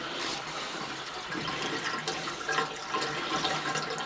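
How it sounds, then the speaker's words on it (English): Water drains steadily from a laundry sink just snaked free of a clog and swirls into a small whirlpool, a close, continuous rushing gurgle with no voices. "You can hear the water."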